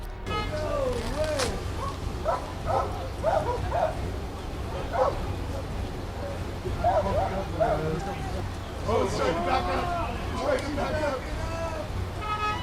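A police dog barks and yips repeatedly in short bursts amid excited voices and background commotion during an arrest at a car, close and loud.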